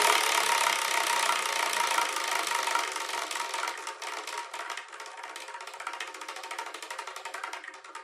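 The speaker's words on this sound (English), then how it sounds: "What we're going to do is spin the wheel." A wheel of fortune spins with a rapid clicking rattle that starts dense and loud and gradually slows and thins out as it coasts toward a stop.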